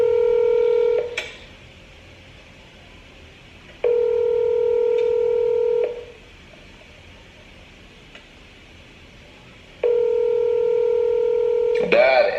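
Touch-tone telephone dialing: three separate bursts of steady dual-tone beeps, each lasting one to two seconds with silence between, loud and close, and a short voice sound at the very end.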